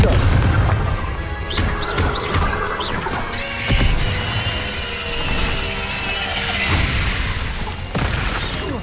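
Confringo blast spells cast during combat in Hogwarts Legacy, a run of loud booming explosions with crackling, whooshing magical bursts and clattering impacts, densely layered and continuous across the clip.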